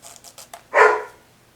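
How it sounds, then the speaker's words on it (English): A puppy gives a single sharp, fairly loud bark after a few soft scratchy noises, nearby in a quiet indoor room. "Oh, there's my puppy."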